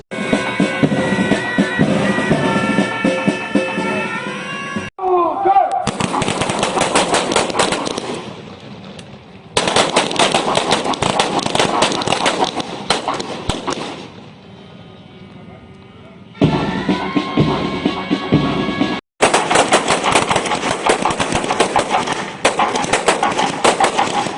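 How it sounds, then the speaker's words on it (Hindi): At an Independence Day ceremony, a police force fires a celebratory rifle volley to salute the national flag. The shots come as long, dense bursts of loud crackling fire, broken by short silences and quieter gaps. "पुलिस बल ने हर्ष फायर कर राष्ट्रीय ध्वज को सलामी दी।"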